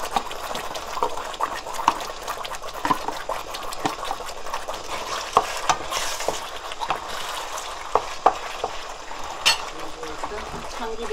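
Maesaengi seaweed stir-frying with green onions in a pan gives a steady wet sizzle and crackle with scattered scraping clicks, while people talk throughout.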